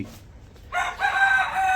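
A rooster crows nearby in a single sustained, strained call that starts partway in after quiet and holds to the end, fairly loud and clear.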